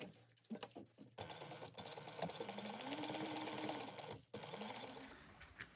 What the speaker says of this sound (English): you're going to sew these at a 1/4 inch seam allowance